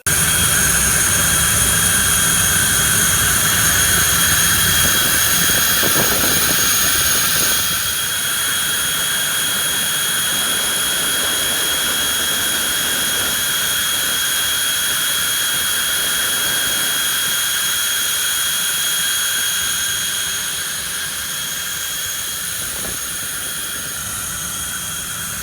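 Steady, loud whine of an L-29 jet engine while the aircraft taxis, high-pitched tones droning continuously with a low rumble underneath, easing slightly in level partway through.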